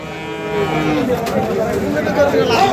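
Bulls and cattle at a livestock market low with a long, drawn-out moo that fills the clip, loud and nearby, while crowd chatter murmurs underneath.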